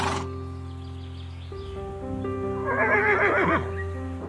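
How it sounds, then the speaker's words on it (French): A horse neighs loudly and alone, a long whinny with a rising, shrill burst in the middle before it trails off. "Le cheval est un mammifère herbivore."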